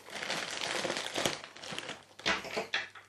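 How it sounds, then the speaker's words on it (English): A Shein parcel is being opened by hand, its plastic packaging crinkling and crumpling in close, loud, irregular bursts, with a few sharper rustles toward the end. "I've got this parcel to unbox"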